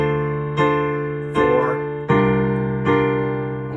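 A piano chord from a song is struck four times at a steady, unhurried pace, each ringing out over sustained low bass notes.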